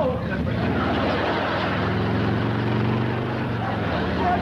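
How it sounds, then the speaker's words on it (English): A motorcycle engine roars steadily and loudly throughout as the bike is ridden up and down a driveway, its droning exhaust filling the scene without pause. "Some crazy kid is racing up down your driveway on a motorcycle."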